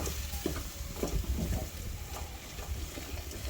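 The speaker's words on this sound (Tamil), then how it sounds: "கொஞ்சம் நல்லா வதக்கிக்கணும்" Chili powder and coriander powder sauté in a pan as the base for an anchovy curry, giving a steady low sizzle with occasional stirring scrapes, fairly quiet and continuous.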